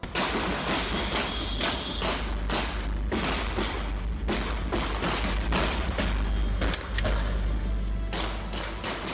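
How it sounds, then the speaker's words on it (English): Repeated gunshots crack out in rapid, irregular bursts on a busy city thoroughfare at lunch hour, loud sharp reports over a low rumble of traffic, sustained across several seconds of firing. "gunshots rang out in one of the capital's busy thoroughfares"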